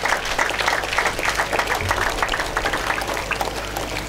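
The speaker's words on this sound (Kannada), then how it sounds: "ಜೋರಾಗಿ ಚಪ್ಪಾಳೆ ತಟ್ಟುವ." Loud, dense applause from a school audience at an Independence Day celebration, steady clapping filling the whole stretch.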